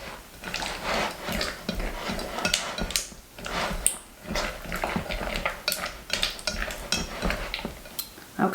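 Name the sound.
stirring fudge mixture in a bowl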